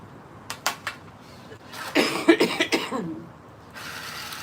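Several dry coughs close to a microphone, a quick short burst followed by a rougher cluster of coughs and throat sounds, with no talking.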